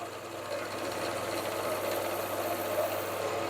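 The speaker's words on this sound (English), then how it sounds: "So we'll just machine that down to the line." A machine cuts a slot in a custom bicycle part in a cold workshop, giving a continuous even whirring grind with a steady low hum, close and unbroken for the whole stretch.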